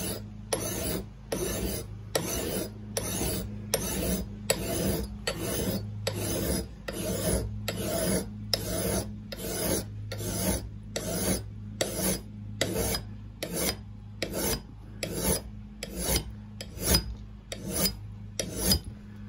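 A hand metal file re-profiles an axe blade in a long series of regular rasping strokes, about one per second, close and steady with brief pauses between passes and no talking.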